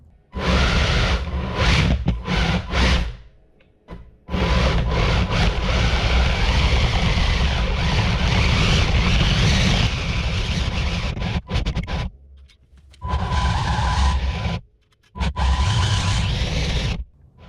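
A 3D printed cart with planetary gearboxes drives down a hill and back up, giving a steady loud rumble and scraping roll mixed with gusty wind noise, broken by a few short pauses.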